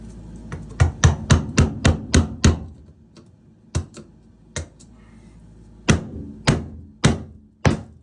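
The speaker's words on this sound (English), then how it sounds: "Break out your old onion feeder and a flathead screwdriver and break your cut in half." An old ABS toilet flange being broken out of the floor with a flathead screwdriver: a rapid burst of sharp, hard plastic knocks, then a pause and several slower, spaced strikes, close and loud with no talking.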